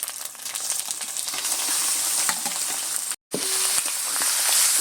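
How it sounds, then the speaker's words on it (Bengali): Spiced chicken pieces frying in masala with ginger-garlic paste for a lemon curry-leaf chicken, giving off a loud, continuous sizzle with scraping stirs. The sizzle cuts out briefly, then carries on close and steady. "মাংসটা দিয়ে বেশ সুন্দর করে নেড়ে চেড়ে মশলার সাথে বেশ ভালো করে কষে নেব"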